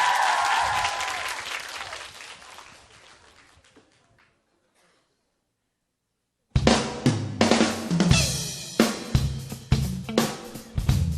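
Applause from a studio audience at a Korean radio special: a steady wash of clapping fades away into silence, then loud, uneven bursts of clapping and cheering return.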